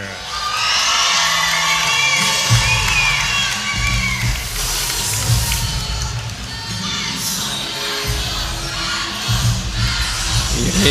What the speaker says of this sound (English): You can hear the crowd chant of Mad Dog